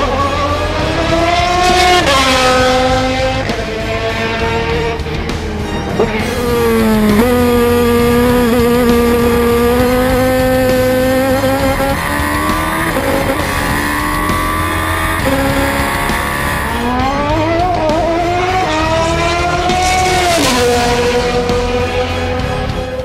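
A Toyota race car from the 2013 World Endurance Championship season drives at speed, its loud engine screaming and rising through gears, dipping on shifts and climbing again, close and continuous with no talking.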